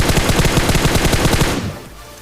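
Rapid automatic gunfire rattles out in a fast, even burst of about a dozen shots in a mobile battle royale shooter game, loud and close, then cuts off abruptly.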